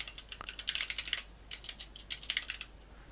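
Fingers type on a computer keyboard while entering code, a close burst of light rapid key clicks in uneven clusters with short pauses, no talking.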